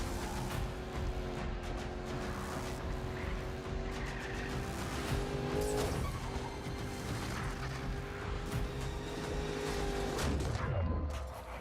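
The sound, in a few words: BMW X6M car driving and skidding in a video game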